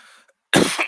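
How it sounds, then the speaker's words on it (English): A single short, sharp cough close to the microphone after a brief silence. "If you hear me coughing"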